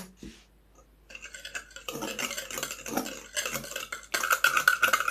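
Soft scraping and light clinking as yeast dough mixture with sugar is stirred in a bowl, a steady close-up rhythm of stirring strokes with no talking.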